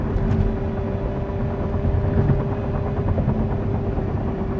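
A supercharged Lotus Emira engine held in one gear under throttle during a road drive, a loud, continuous, slightly rough drone that stays steady throughout with no voices.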